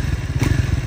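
A Triumph Speed 400 motorcycle with ride-by-wire throttle revs its engine in a rapid, throbbing pulse, loud and close, with no voices over it.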